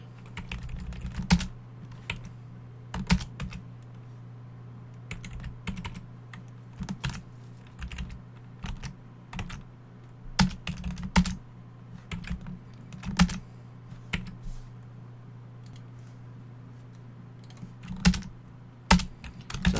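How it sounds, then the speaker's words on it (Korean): Computer keyboard keys tapped in short irregular clicks while working in the Android Studio IDE on Kotlin code, with a steady low hum running underneath throughout. "다시 요거 Alt 엔터 눌러야 됩니다"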